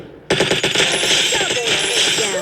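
Burst of rapid automatic gunfire in the Free Fire video game, loud and close, a sharp onset followed by continuous rattling shots for about two seconds.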